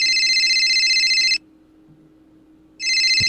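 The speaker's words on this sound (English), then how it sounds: "Is that a phone ringing?" A phone rings loudly nearby in a steady electronic trilling tone, stops for about a second and a half of near silence, then starts ringing again.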